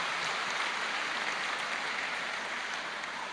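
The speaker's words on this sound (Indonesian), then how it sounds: "Beri tepuk tangan suami Anda" Audience in a Catholic spiritual revival gathering clapping for the husbands in attendance, a steady dense wash of hands held at an even level for a few seconds with no talk over it.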